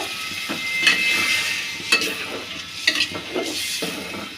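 Shukto vegetables sautéing with spices in a pan, a constant close sizzle broken by a few scraping strokes of a spatula roughly once a second, fairly loud and with no talking.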